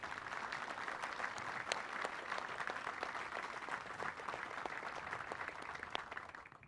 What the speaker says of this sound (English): So please give our veterans, retirees, and all those who've worn this patch a round of applause.